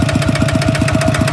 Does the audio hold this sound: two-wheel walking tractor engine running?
yes